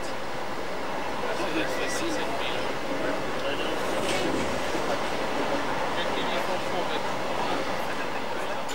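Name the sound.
Picasso X-3800 railcar running on track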